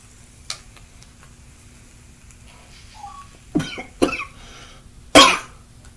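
A person coughs and chokes, likely while drinking beer and vaping: a few sharp, close coughs, the last one loudest, separated by quiet gaps.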